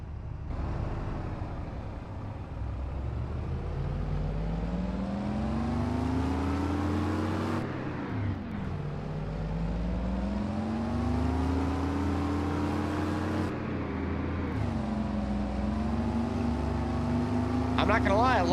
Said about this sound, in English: I love the way the truck sounds though